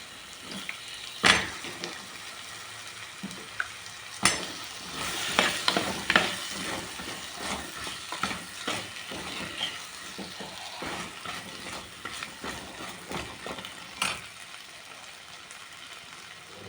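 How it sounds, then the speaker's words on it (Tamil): Potato and eggplant sizzle in a hot pan while a spatula scrapes and stirs, with sharp clanks against the pan now and then, close by. "இந்த உருளைக்கிழங்கையும் கத்திரிக்காயும் வதக்கிட்டேன்"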